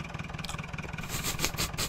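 Tractor engine in the Farming Simulator video game, a steady mid-pitched chugging drone with a pulsing low rhythm, heard close and alone throughout.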